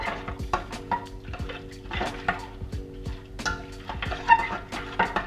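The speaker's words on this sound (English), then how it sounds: "Give it a stir, scrape the bottom, make sure you get all that fond up" A spoon scrapes and stirs wine in a pot to lift the fond off the bottom, giving a run of close, irregular metallic scrapes and knocks over a faint low simmer, with no voices.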